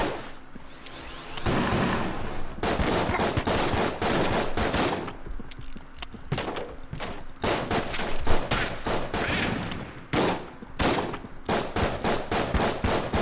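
Boss gunfire in the video game Enter the Gungeon crackles in dense, rapid bursts of shots, fairly quiet and continuous with short gaps between volleys.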